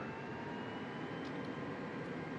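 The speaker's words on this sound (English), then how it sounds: "You still hear the engines." Steady, dense aircraft engine drone from Microsoft Flight Simulator 2024 on PS5, a continuous broadband roar that holds even and loud throughout with no talking over it.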